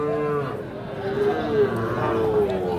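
A Sahiwal bull calf at the Ambari cattle market lows in drawn-out tonal calls amid steady crowd noise, with people talking nearby throughout.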